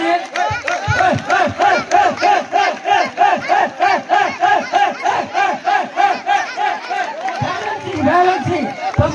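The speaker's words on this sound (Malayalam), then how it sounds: "റെഡി എല്ലാവരും കയ്യടിച്ച് പ്രോത്സാഹിപ്പിക്കുന്നത്" A crowd at an Onam celebration game claps and cheers loudly in a steady rhythmic beat, close and continuous, with excited voices shouting throughout and a few shouted calls near the end.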